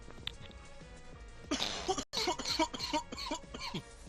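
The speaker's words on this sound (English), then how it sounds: "I'm just going to cough again." A person coughs several times in a quick burst, close up, after a moment of quiet breathing.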